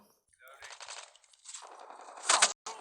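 Gunfire from the video game Call of Duty, a few quick bursts of shots, the loudest rapid burst near the end, heard alone without talk.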